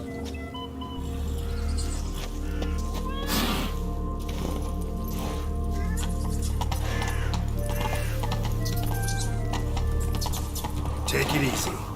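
Hooves of the horse Roach clip-clop in a steady trot through a video game world, with occasional clatter and a brief snort over a constant low ambient rumble; a voice talks over it.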